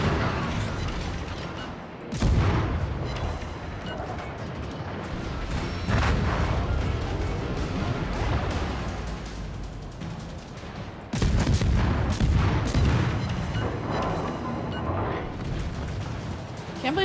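Warship guns fire in the naval game World of Warships, with heavy booming salvos at intervals over continuous roaring battle noise and a voice talking throughout.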